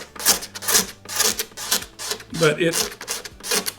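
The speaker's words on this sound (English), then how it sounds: "A nice sharp razor blade really works great on a surface like this" A sharp razor blade scrapes across the wooden top of a mid-century modern side table being refinished, giving repeated rasping strokes in a steady rhythm, close and moderately loud, with a brief spoken word in between.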